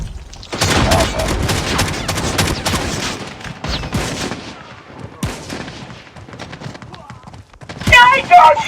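Rapid gunfire and loud bursts of shots from a first-person shooter game, dense and continuous through most of the stretch with a sharp flurry near the end, while players talk over the fighting.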